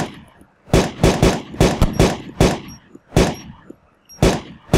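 Gunshots in the video game DayZ, a series of sharp, loud single shots fired in an uneven rhythm, some in quick pairs, with gaps between them.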